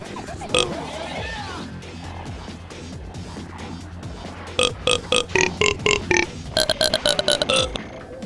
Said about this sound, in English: you can play Knick-Knack Paddywhack by pitch shifting your burp in Sony Vegas